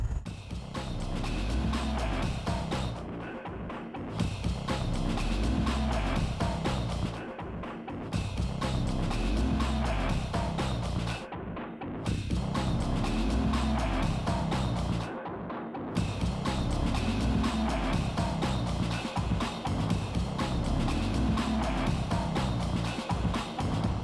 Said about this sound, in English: Driving a fast diesel car these days is an entirely different prospect.